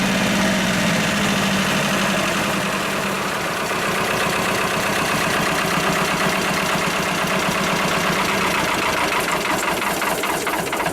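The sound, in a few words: Lister ST2 diesel engine revving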